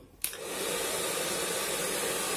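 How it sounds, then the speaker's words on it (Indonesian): A hair dryer set to its hottest setting, heating a Yamaha Aerox headlamp, clicks on and quickly rises into a loud, steady blowing roar that holds constant, with no talking. "kita nyalain di step yang paling panas di hair dryer dan kita biarin selama kurang lebih 5 menit"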